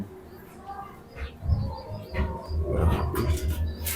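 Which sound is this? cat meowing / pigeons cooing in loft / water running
pigeons cooing in loft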